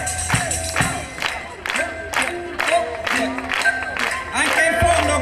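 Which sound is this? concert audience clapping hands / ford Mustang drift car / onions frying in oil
concert audience clapping hands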